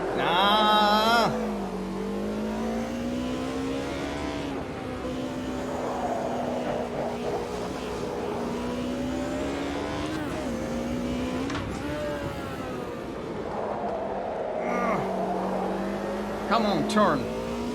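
BMW M3 DTM race car from the video game Automobilista 2, its engine droning and shifting pitch steadily throughout, with brief higher revving bursts near the start and end, while someone talks over it.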